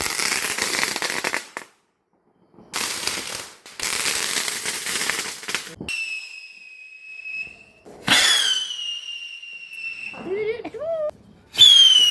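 Several bursts of loud crackling firecracker explosions during Vishu festivities, including a 15-shot cracker, separated by brief silences, followed by whistling, shrieking rockets and another sharp burst at the end.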